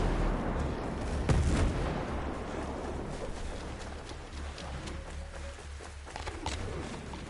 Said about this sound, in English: dude just dropped a fucking mortar cloud.